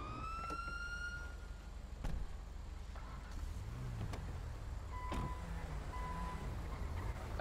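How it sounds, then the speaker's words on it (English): Car engine idling in a GTA 5 roleplay street scene, a steady low rumble throughout with a siren wailing in the background and a few brief thumps. "Turn the engine off, please."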